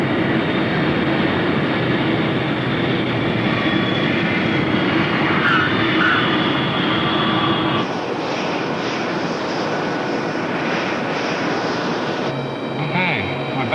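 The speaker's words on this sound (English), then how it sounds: "960, check wheels down, wind 350, 12, your wheels are down and we're clear to land" A T-38 jet aircraft lands, its engine hiss and roar loud and continuous in the cockpit, with an abrupt shift in tone partway through. Radio-style speech runs over the noise.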